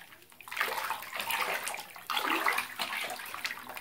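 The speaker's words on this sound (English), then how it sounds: "It's like a waterfall going on there. Wow, the water." Water gushes steadily into a bathtub, turned orange by a Mad Bombers gingerbread man bath bomb, a loud continuous rushing pour with slight surges and no talking.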